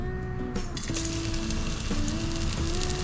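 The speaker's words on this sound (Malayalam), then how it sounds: "അതിന് നമ്മളൊന്ന് എണ്ണയിലിട്ടിട്ട് ഫ്രൈ ചെയ്തെടുക്കും" Coated noodle fish rolls fry in hot oil with a steady, dense sizzle and crackle that carries on unbroken, close and fairly loud, with no talking.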